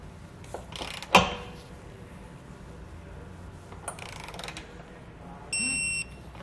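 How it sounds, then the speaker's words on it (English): A torque wrench tightens trailer hitch hardware under a 2017 Volkswagen Golf Alltrack, giving a sharp click, faint ratcheting and then a brief high beep, over steady background hum. "We're now ready to come back and torque down all of our hardware to the amount specified in our instructions."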